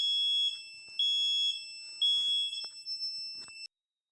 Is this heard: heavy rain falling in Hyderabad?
no